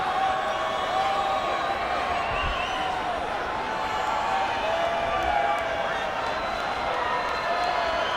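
A rugby crowd at a Tonga versus USA Eagles Pacific Nations Cup match in June 2013 cheers steadily for Tonga: a continuous, dense roar of many distant voices that holds at one level throughout.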